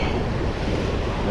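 Ocean waves splash against rocks on a hike at Chinaman's Hat, Kualoa Regional Park, Oahu, Hawaii, a dense close-up roar of surf and spray with steady wind noise throughout.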